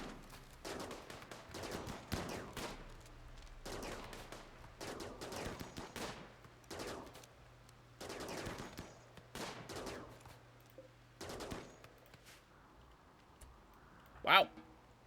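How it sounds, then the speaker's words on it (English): RimWorld turrets fire on attacking mechanoids in repeated bursts of rapid gunfire, grouped in rough clusters spaced a second or two apart, with a sharp louder crack near the end. "And our turrets are shooting."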